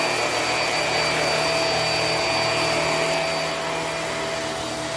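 Hoover High Performance Swivel vacuum cleaner running on matted, dirty carpet indoors, a loud, steady motor whine with airy suction noise that holds throughout without pause.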